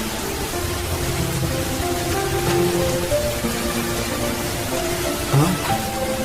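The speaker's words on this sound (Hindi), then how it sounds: "सड़क पर बारिश की आवाज बढ़ने लगी।" Steady rain pours down on a street in a dense hiss with faint scattered drops, continuous and fairly loud throughout, with a faint voice briefly in the background.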